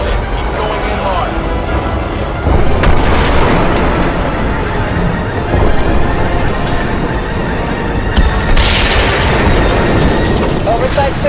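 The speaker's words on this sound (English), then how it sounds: "Target locked. Missile away. Confirmed missile hit. He's going in hard." A missile strike in the Crysis 2 shooter lands amid dense battlefield noise, with heavy booms and rumbling blasts over constant combat din while radio voices talk over it.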